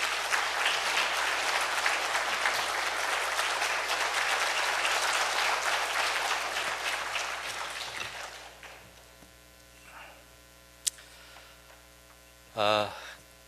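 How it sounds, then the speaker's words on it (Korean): A church congregation at an afternoon worship service applauds with loud, dense clapping for about eight seconds that gradually thins and fades into a quiet room with a steady electrical hum, followed by a brief thump and a short sound. "우리 집사님 나오실 때 여러분들이 한번 박수로 하나님 앞에 영광을 돌렸으면 좋겠습니다."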